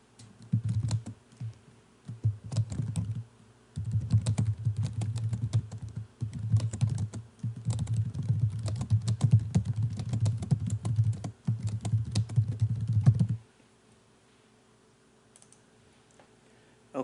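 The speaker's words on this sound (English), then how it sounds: "now I'm going to type in what I actually want it to say" Macro text being typed on a computer keyboard: a long, steady run of close key clatter with short pauses, stopping abruptly before near-silence at the end, with no talking.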